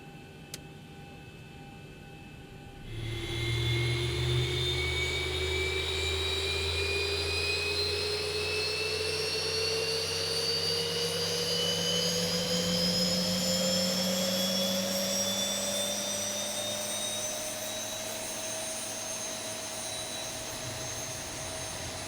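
A Boeing 737 jet engine starts in the X-Plane 11 flight simulator, moving from near silence to a steady rumbling roar, with a whine that climbs slowly and evenly in pitch as the engine spools up.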